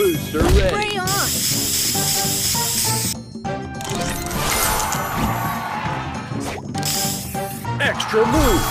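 Spray booster effect in the Match Masters mobile puzzle game: loud hissing spray bursts mixed with crashing effects and bright chiming tones, under a repeated announcer-like game voice and background music.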